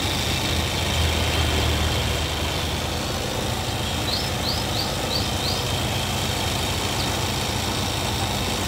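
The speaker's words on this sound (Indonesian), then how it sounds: "Ini power steeringnya, suara mesinnya enak." A 2002 Suzuki Katana GX engine idles steadily with a constant low rumble throughout, close and fairly loud, with a few faint chirps mid-way and no speech.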